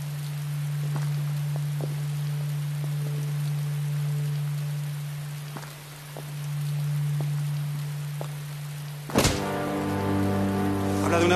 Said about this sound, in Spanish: Vamos a esperar aquí a que pare la lluvia